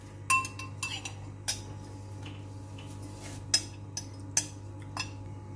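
Vermicelli being stirred into thickened, boiled milk in a pot for sheer khurma, with a spoon clinking against the metal in a few sharp taps and scrapes over a steady low hum.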